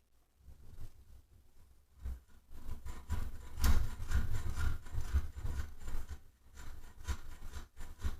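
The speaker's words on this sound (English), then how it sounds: "Let's fast forward the sanding part to where it gets done." Sand cloth scrubs an aluminum pipe in irregular bursts of rough, close rubbing and scraping, loud at moments and briefly pausing between strokes.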